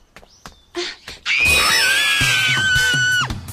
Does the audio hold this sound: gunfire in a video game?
no